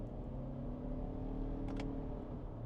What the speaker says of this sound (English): if I put it in the lower gears like that, it doesn't sound like it enjoys doing it by any means